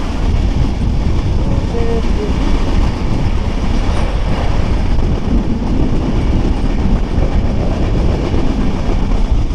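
Loud, continuous rumble and rattle of the Drutojan Express train running on tracks between Dhaka and Panchagarh, heard from inside a carriage, steady throughout with no talking.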